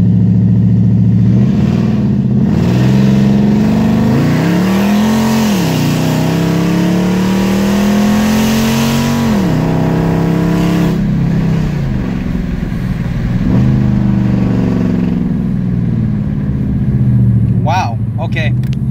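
A Hemi-tuned car accelerates hard at full throttle, its engine revving up loudly in several rising pulls and settling, heard close with a brief voice near the end.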